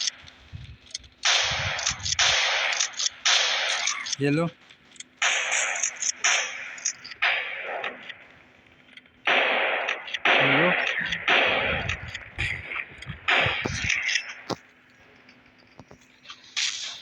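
Shotgun fire sounds in the Rope Hero Vice Town video game. Bursts of sharp blasts repeat in irregular clusters, fairly loud, with brief gaps between volleys.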